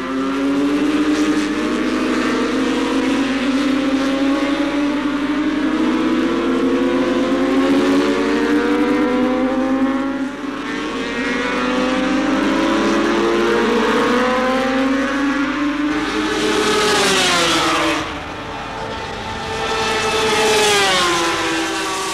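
Motorcycles racing at Daytona, including choppers on the banking and beach course, engines roaring continuously with pitch rising and falling as bikes pass, loud and near, with no talk.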